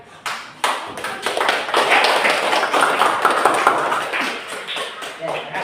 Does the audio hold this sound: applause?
yes